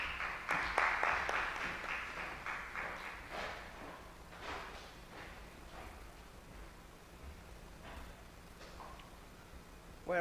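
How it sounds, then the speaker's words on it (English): An indoor audience at a real estate engagement meeting in Mzuzu claps to welcome a speaker, a moderate burst of applause that thins out over several seconds into scattered claps and room noise. "Please give him a round of applause."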